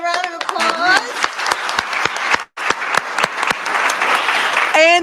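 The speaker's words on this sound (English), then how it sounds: "So another round of applause." Audience applause at a live competition finals and graduation event, a sustained wave of many hands clapping with a brief break midway, then resuming with cheers and whistles near the end.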